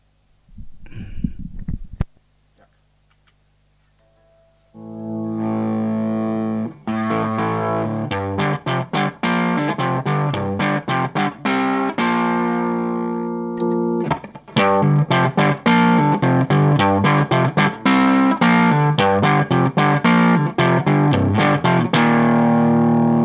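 A brief low thump, a few seconds of near silence, then a heavily distorted Framus Diabolo electric guitar through an overdriven Cornford RoadHouse 30 tube amp plays crunchy chords and choppy riffs, loud and saturated.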